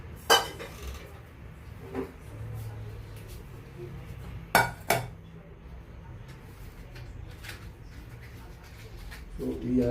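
Metal cooking pots (sufuria) clink and clatter in a home kitchen while pork is pan grilled, with a few sharp knocks spread through the stretch over a low background hum.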